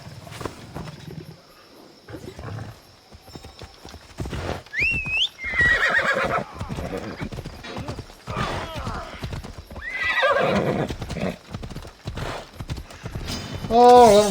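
A horse in Assassin's Creed Odyssey, played in VR, whinnies in several loud, shrill bursts among clopping hooves and other rough animal noises, with someone talking in between.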